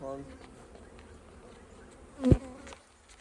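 Honey bees buzz steadily around an open beehive nuc at low level, with a brief louder rustle or knock partway through.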